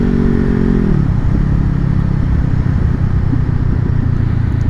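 Motorbike fitted with a new exhaust, engine held loud and close, a high revving tone dropping off as the throttle is released, then a rumbling idle with small irregular pops and crackles continuing alone.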